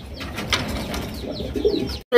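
A pigeon, a fully coloured bird of a rare breed, coos briefly and softly nearby with a few low rolling notes, then falls silent.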